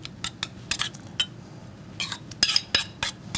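Utensils clink and scrape against a bowl while a beet ravioli filling is mixed, with irregular short bursts of metallic contact close up and quiet gaps between them.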